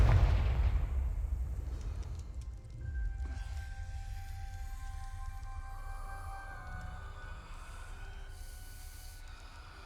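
A Confringo blasting spell explodes in Hogwarts Legacy, opening with a loud deep blast that rumbles away into a low sustained roar with faint tonal game ambience over it.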